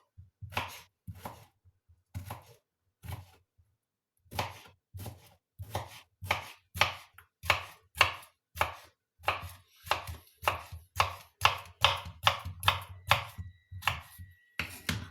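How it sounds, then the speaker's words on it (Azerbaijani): A knife chops cucumber on a cutting board for a Caesar-style salad: a short burst of cuts, a pause, then a long steady run of crisp, close, rhythmic strikes that speed up toward the end, with no talking. "Xiyarımızı bir neçə hissəyə bölüb"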